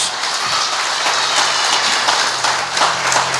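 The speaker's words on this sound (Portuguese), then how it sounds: "Se você acredita, aplauda bem forte a Jesus" A church congregation applauds for Jesus during a service, with steady, dense clapping filling the room throughout and no talk over it.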